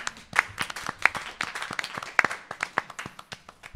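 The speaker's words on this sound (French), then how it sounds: "on peut applaudir la belle 8e place alors." Studio audience clapping to applaud an eighth-place finish on a French talk show, a steady patter of claps with some sharper peaks, moderately loud and without talk.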